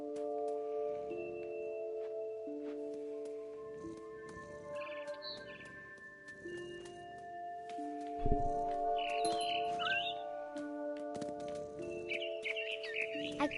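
Soft bird chirps and tweets in the What Remains of Edith Finch video game, scattered high calls over a steady, tonal ambient music bed with sustained chords, fairly quiet throughout.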